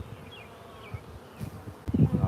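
A honeybee colony buzzes steadily during a hive inspection, a close, continuous insect drone with individual bees whining past, followed by a louder burst of handling noise near the end.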